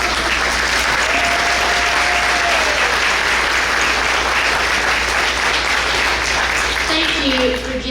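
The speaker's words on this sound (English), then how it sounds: "let us give you a round of applause?" Sustained loud applause from an audience at a school district breakfast event, steady dense clapping throughout, with a faint voice briefly audible over it.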